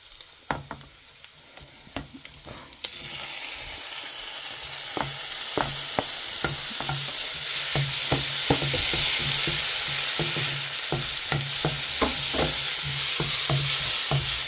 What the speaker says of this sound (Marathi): सो मगे कांदो फ्राय जालो.